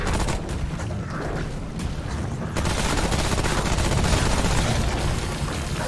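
Dense, loud gunfire from the video game Remnant: From the Ashes rattles on continuously at close range, rapid shots blending into a steady barrage with a brief lull before it surges again, no talk over it.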